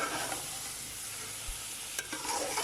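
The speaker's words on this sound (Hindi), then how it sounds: "और सुहांजने को भून लेंगे।" Moringa flowers, known as sohanjna, fry in oil during a meat curry recipe with a soft, steady sizzle and faint stirring scrapes, plus a brief thump partway through, close and quiet with no voices.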